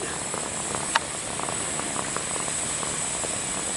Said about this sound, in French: Là j'attends que ça rentre en ébullition